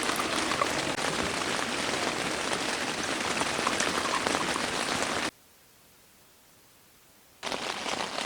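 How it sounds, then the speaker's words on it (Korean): Steady heavy rain drumming on a surface at an autumn campsite, close and continuous, cutting out abruptly for about two seconds before resuming just as dense. "비가 많이 오네."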